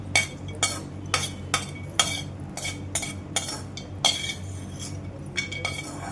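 Dry coconut pieces roasting in a pan for koora podi, heard as a series of sharp clinks and scrapes from stirring at an irregular rhythm over a low background hum.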